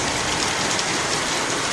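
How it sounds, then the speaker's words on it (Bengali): Heavy rain pours down in a dense, steady roar, close and unbroken, with no voices. "এইবারে এখানে মুষলধার বৃষ্টি নেমেছে"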